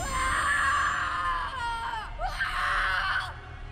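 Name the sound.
screams in a horror story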